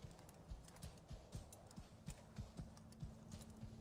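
Horse hooves in a Ubisoft video game trailer, a steady rhythmic clip-clop of a walking horse, fairly faint under a hazy background wash, with no talking.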